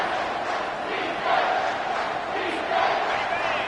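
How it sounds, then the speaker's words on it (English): A college football stadium crowd in the SEC roars loudly and continuously, a dense wash of massed voices that swells slightly a couple of times during a third-down play. "this crowd will blow out a vocal cord to help this defense"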